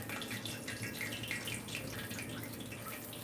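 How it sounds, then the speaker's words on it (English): Water hits hot frying oil in a home kitchen while copycat KFC famous bowl chicken cooks, giving a steady, dense sizzle and crackle that stays at an even level throughout, with no talk. "when water touches the oil, it freaks out"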